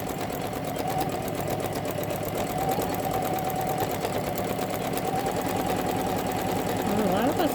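An older Janome Memory Craft 10001 embroidery machine stitches a scarecrow design in a fast, steady mechanical whir and rapid needle rhythm, running continuously at moderate loudness.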